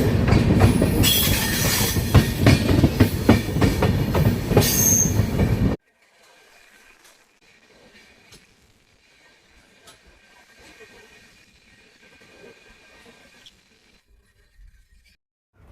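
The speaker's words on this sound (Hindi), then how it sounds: "हमारी ओखा रामेश्वरम एक्सप्रेस का डिपार्चर हो रहा है द्वारिका रेलवे स्टेशन से" The 16734 Okha Rameshwaram Express departs Dwarka railway station, its carriages rumbling loudly and close with wheel squeal and clatter for several seconds before giving way to near silence.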